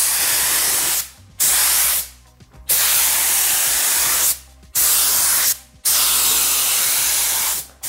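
Four long bursts of PVA release agent spraying onto a fibreglass mould, each a few seconds, separated by short silent gaps, loud and close with no voices.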